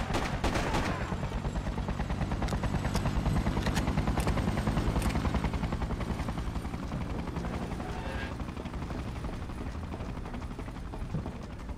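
Rapid bursts of automatic gunfire crackle in the Freedom Fighters video game over a constant loud helicopter rotor thrum, with repeated sharp shots through the first half.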